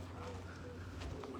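Pigeons coo softly in the shade of rocks on Jabal al-Nour mountain in Saudi Arabia, a faint, low, steady murmur of calls against quiet outdoor background noise.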